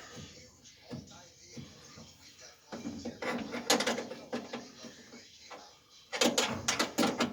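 Wrench working a bolt on a 1941 Dodge truck near the headlight switch, with clicking, scraping metal turns in two louder bursts separated by quieter shuffling handling noise, heard close up.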